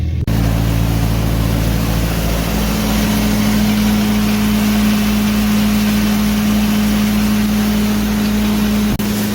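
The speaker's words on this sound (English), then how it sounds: "So we're out here grinding feed. This bin's full of non-GMO corn. This is our feed grinder here." A tractor-driven feed grinder grinding non-GMO corn outdoors, a loud, steady mechanical drone with a constant low hum and gritty grinding noise that continues without a break.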